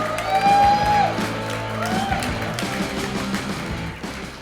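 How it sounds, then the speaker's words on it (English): A comedy club crowd in Sarasota cheers and claps for comedian Casey Ruark, with a loud shouting voice over the top at first, then a sustained wash of clapping and whoops. "How about a big round of applause for Casey Ruark?"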